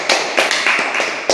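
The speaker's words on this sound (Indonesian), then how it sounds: "Berikan tepuk tangan dulu dong" A small classroom group claps in a brief uneven burst, a handful of sharp separate slaps close by with no voices.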